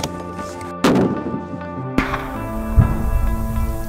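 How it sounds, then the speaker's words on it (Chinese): An HS50M1 anti-materiel sniper rifle fires a .50 BMG round: a sharp, very loud blast followed by a second crack and a long rolling echo and rumble, with no voices. "最后上场的是今天的重量级选手 HS50M1 反器材狙击枪，和巴雷特发射同样的 .50BMG 子弹"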